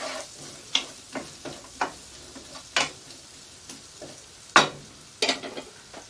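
Vegetables sauté in a pan under a soft sizzle, punctuated by irregular sharp clicks and knocks of a utensil against the pan, with no voices.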